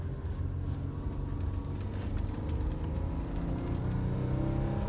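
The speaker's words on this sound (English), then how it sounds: "This car sounds great, it pulls strong" A 1991 Alfa Romeo 164 engine hums steadily from inside the car while driving, a low continuous drone with a gently rising pitch, moderately quiet.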